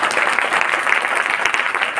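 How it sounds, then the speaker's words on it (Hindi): A church congregation claps together in a sustained burst of applause, dense and even for about two seconds, with no talk over it. "खुश होकर एक बार ताली बजनी चाहिए।"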